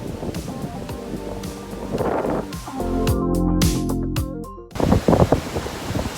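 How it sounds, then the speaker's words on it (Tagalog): Strong surf washes ashore at Station 1 on Boracay beach during the habagat monsoon, with broad crashing rushes and gusting wind, interrupted midway by a steady droning tone. "malakas pa rin yung alon"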